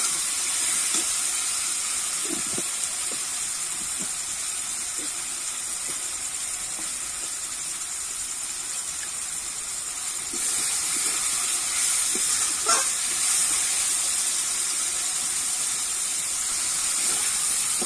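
Salted tomatoes sizzle in a pan with a steady, loud hiss that runs unbroken for many seconds, while faint scrapes and knocks of stirring surface now and then.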